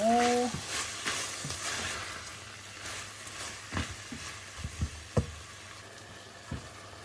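Sadao farang (neem) stir-frying with pork in a pan, a close steady sizzle broken by sharp clacks and scrapes of the spatula at irregular intervals, with no talking.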